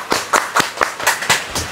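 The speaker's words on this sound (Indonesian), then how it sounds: "Tepuk tangan dulu dong." Sharp hand claps ring out at a roadside food stall in Banjarbaru, about eight loud, close claps in a quick, slightly uneven rhythm.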